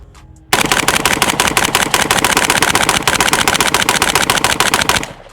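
AK rifle firing Polish GROM ammunition in one long rapid string of loud close shots, a dense fast rhythm that starts abruptly and stops after about four and a half seconds.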